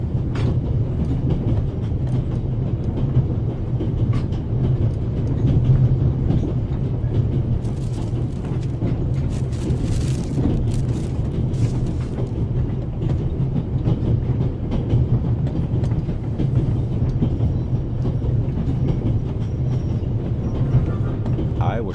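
Train carriage from The Raven game rattling steadily along rails, a continuous low rumble with faint clicking, even in loudness throughout.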